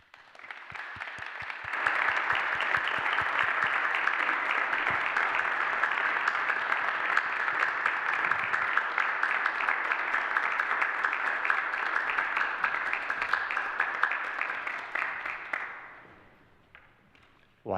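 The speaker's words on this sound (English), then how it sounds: "they keep applauding in the 3 minutes that it takes you to walk all the way up from the back" A concert audience claps for an acoustic guitarist walking to the stage. The applause is steady and sustained for about fifteen seconds at a moderate distance, then fades out, leaving a few scattered claps.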